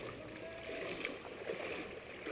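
Someone wading across the Loa River, a steady close wash of rushing, swirling water around the legs, fairly quiet and even throughout with no voices.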